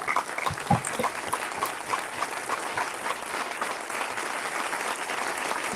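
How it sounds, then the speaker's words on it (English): Audience at a Utah Eagle Forum candidate debate applauds the candidates, a steady round of mixed clapping from a modest room crowd that carries on evenly throughout without speech. "So please join me in giving these folks a round of applause."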